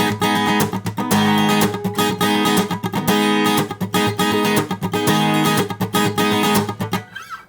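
An acoustic guitar strums the pre-chorus pattern of a song at full speed, a tight, driving sixteenth-note rhythm of sharp chord hits with short muted gaps, loud and close, played alone without talk.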